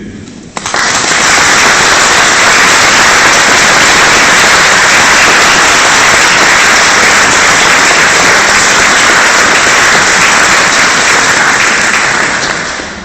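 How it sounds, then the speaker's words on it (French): Loud, dense applause from a large crowd inside a church, a continuous roar of clapping that begins abruptly and holds steady for many seconds. "Je demanderai donc au public, en la circonstance, de tous les applaudir fortement"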